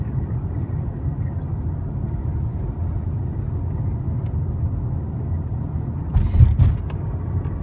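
A manual stick-shift car engine drones in a steady low rumble from inside the car, then briefly swells with a louder burst near the end.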